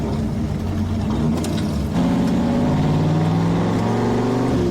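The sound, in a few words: 5.0 V8 swapped 1988 Ford car engine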